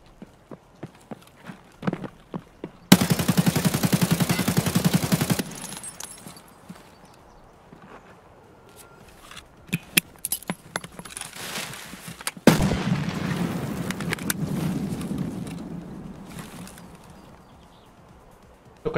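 Gunfire from an AI bot in Escape from Tarkov, shooting through a wall: a dense burst of rapid shots for a couple of seconds, then scattered single cracks and a longer rumbling volley later, with quiet stretches between.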